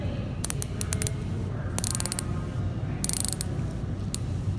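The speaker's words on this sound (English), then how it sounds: "Let's listen to the bezel." A Tudor Pelagos dive watch bezel is turned in short bursts of crisp, rapid ratcheting clicks, close and distinct over a low background hum, with brief pauses between turns.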